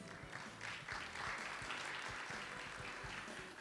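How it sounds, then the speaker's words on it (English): Audience applause breaks out at a networking luncheon right after a deputy minister's toast, a broad steady wash of clapping from a large crowd lasting several seconds at fairly even loudness, with a low background murmur beneath. "please give a big round of applause"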